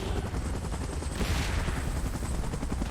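In a Titans video game themed on Kong, Godzilla and Mechagodzilla, a helicopter is destroyed amid gunfire. A dense, steady rattle of rapid shots mixes with a rotor-like drone and a brief swelling burst, with no talking.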